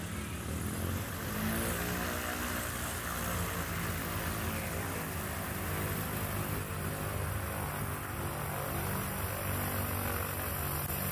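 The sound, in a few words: Bellanca light aircraft taxiing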